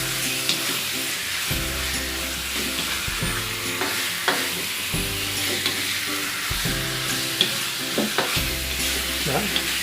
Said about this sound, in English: We will just stir fry, just to seal the surface of the squid.